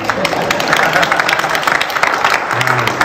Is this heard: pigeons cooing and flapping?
no